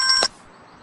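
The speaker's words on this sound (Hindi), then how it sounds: "मैं खुद ही कॉल कर रहा हूं" A single short electronic beep sounds as a mobile phone dials, a bright tone lasting about a quarter second that ends abruptly into near silence.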